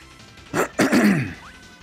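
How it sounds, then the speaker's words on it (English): A man clears his throat forcefully twice in quick succession, close and loud, with a short gap between the two rasping bursts before fading to quiet. "I gotta clear my throat like crazy"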